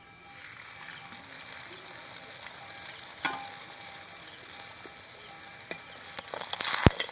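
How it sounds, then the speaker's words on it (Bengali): Lachha paratha frying in hot oil, a steady close crackling sizzle with scattered sharper pops and spatters that grow busier toward the end. "একটা লাচ্ছা পরোটা বেলে নিয়েছি, এবার আমি তেলের মধ্যে দিয়ে দেবো।"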